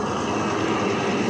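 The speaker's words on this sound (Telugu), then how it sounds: "ఇక్కడ నాన్ స్టాప్గా వెహికల్స్ వెళ్తానే ఉన్నాయి." Heavy highway traffic with lorries streaming past near the Gujarat–Maharashtra border makes a loud, unbroken broadband roar, close and steady, with no voices.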